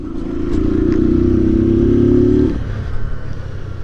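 A motorcycle engine idles and revs with a steady low rumble for a couple of seconds, then drops back to a quieter idle with light clatter.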